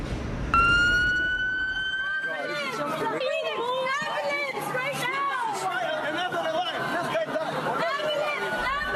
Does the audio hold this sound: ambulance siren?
yes